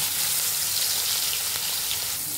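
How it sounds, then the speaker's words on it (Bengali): Shrimp sizzle steadily in about two teaspoons of hot white oil in a wok, a dense continuous crackling hiss that stays loud and even throughout, with no talking. "এখন আমরা চিংড়ি মাছগুলো তেলে ভেজে নিই।"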